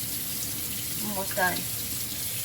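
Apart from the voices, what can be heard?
tap water running while washing hands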